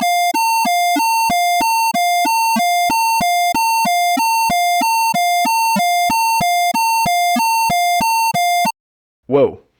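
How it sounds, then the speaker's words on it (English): An Arduino circuit built by Gemini plays an ambulance-style siren: a loud electronic tone alternating steadily between two pitches in a fast, regular rhythm for about nine seconds, then cutting off before a brief rustle. "Gemini built an ambulance siren instead of a police siren"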